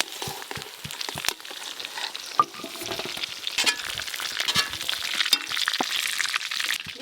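Pointed gourd (potol) pieces fry in hot oil, giving a steady close sizzle with scattered pops and crackles and occasional stirring scrapes, with no voices.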